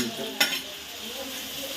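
Tomatoes frying in a pan make a steady, gentle sizzle, broken by one quick scrape or clatter early on, close and moderately quiet with no talk.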